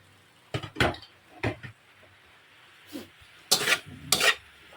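A cooking pot lid lifted off a pot of adobong sitaw: a few sharp metallic clanks and scrapes, close and moderately loud, ending in a louder clattering burst.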